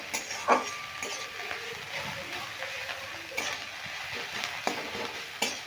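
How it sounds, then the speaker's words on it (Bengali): Fried onion and chilli being stirred into potatoes in a pan for a Bengali onion-potato-poppy-seed dish, with repeated close scraping and clinks of a spatula over a low, continuous sizzle. "এবার আমি আলুর সঙ্গে এটা মিশিয়ে নিচ্ছি"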